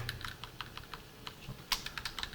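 Keys on a computer keyboard are tapped in a quick, uneven run of light clicks, close and fairly quiet, with no voices.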